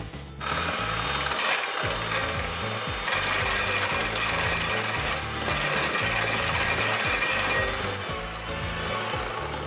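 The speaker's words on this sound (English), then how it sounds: "We're going to whisk our egg whites." Egg whites are beaten in a bowl for a homemade dessert in a cooking-show kitchen, giving a loud, continuous rhythmic whirring and scraping that runs steadily throughout with a brief dip, and no talking.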